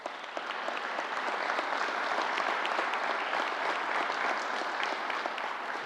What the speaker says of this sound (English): Let's give the County Executive a round of applause.